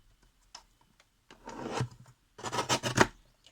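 Paper book pages are cut to size in two rough, rasping strokes, each lasting about a second, close and fairly quiet, with small taps and rustles between them.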